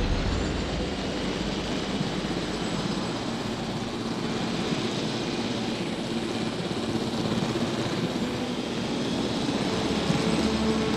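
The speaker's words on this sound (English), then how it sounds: "So I'm going to fly this helicopter around for a bit." Helicopter flown around a dinosaur park in Jurassic World Evolution, a steady rotor and engine roar heard from inside or close by, loud and unbroken throughout, with no talking.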